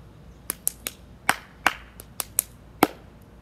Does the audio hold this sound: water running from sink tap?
no